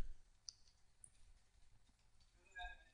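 A computer mouse button clicked while operating software, a few short, sharp, quiet clicks spaced apart over a faint hum.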